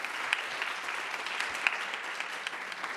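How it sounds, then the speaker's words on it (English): Sustained audience applause for two co-hosts at the close of a fireside-chat event, a steady dense patter of many hands with a few sharper claps standing out, no voices over it. "Maybe one more round of applause for Caroline"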